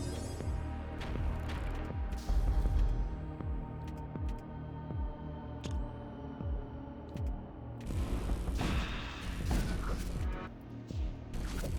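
A weapon fires in the sci-fi video game Void War Torment, throwing out a rapid run of low thumping shots over a humming ship drone, with a heavier crash-like burst toward the end.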